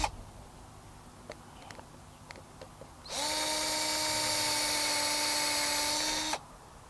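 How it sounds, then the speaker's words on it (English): An electric drill bores through a wooden post for a food donation station. A few faint clicks come first, then a steady high whine runs for about three seconds and stops abruptly. "and just simply drill through."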